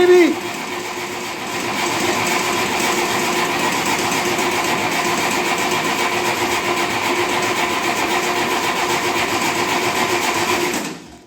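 A 1958 Oliver 550 diesel tractor engine cranks on its starter, trying to fire, in a steady loud churning drone that runs for about ten seconds before cutting off.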